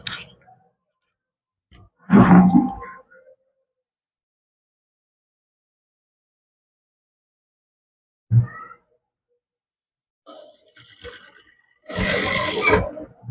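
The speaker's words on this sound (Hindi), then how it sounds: "ऐसे फोल्ड करते हुए हमें इस पर सिलाई लगा देनी है" A sewing machine stitches a folded seam on a heavy, large-size suit in two short, close runs separated by long quiet gaps, with a few faint clicks in between.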